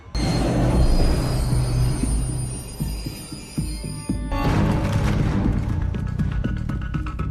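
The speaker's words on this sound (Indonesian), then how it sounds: "kereta pun menyala dan mereka melanjutkan perjalanan" An underground train in a film rumbles along on the rails, with rhythmic clatter and a high metallic squeal of wheels growing louder partway through.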